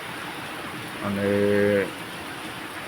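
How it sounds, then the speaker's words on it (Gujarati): Heavy rain falls in Gandhinagar as a steady, moderate wash of hiss. A voice speaks briefly over it partway through. "આજે ગાંધીનગરમાં બહુ ખૂબ જોરદાર વરસાદ ચાલુ છે"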